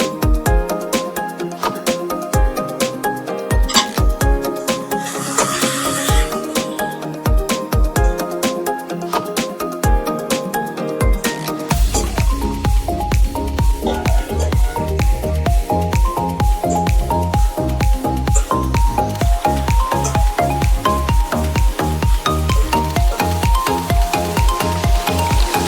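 Chopped tomato goes into a hot pan for egg curry, sizzling and hissing loudly while the mixture is stirred and squished with a steady, repetitive scraping rhythm, close up.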